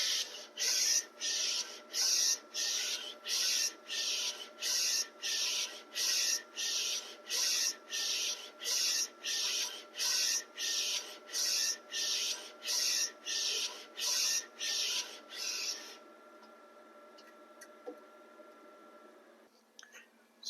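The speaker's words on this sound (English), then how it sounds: "So now that we're done printing" A Mutoh printer with a rotary attachment prints onto a tumbler, giving a rapid series of about twenty regular rhythmic hissing passes, then stopping and leaving a faint hum with a few small clicks.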